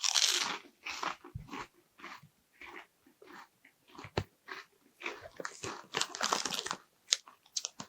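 Loud, close crunching of pork-scratching-style sweet chili barbecue snacks, crisp bites and chewing repeated across the whole stretch, with brief speech-like sounds in between.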